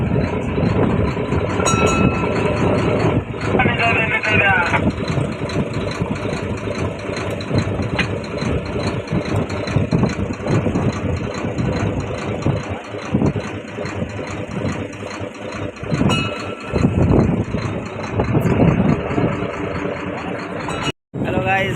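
A fishing trawler's engine drones steadily and loudly close by on a hilsa-netting boat, a constant mid-pitched throb with clattering overtones and a brief dropout near the end.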